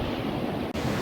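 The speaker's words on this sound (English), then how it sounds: "look at those waves coming out of the ocean" Ocean waves break on the shore in a loud, steady wash of surf with wind noise across the microphone, broken by one very brief dropout.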